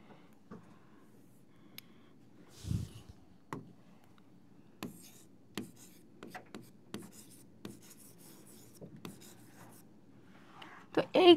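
A pen writes by hand on a board or paper during a computer lesson, producing scattered short scratchy strokes with pauses between them, faint and close under a low background hum.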